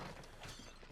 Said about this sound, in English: Just smashing them barrels